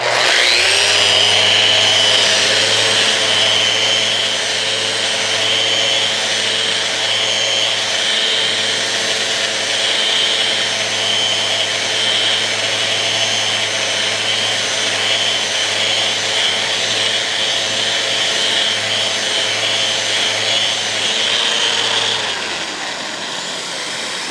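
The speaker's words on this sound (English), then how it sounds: "So I'll sand left to right, I'll sand front to back, and I'll sand in a circular motion after that." A Rotex orbital sander works steadily across a flat surface, a loud, continuous whine with a low motor hum that holds evenly for about twenty-two seconds before spinning down at the end.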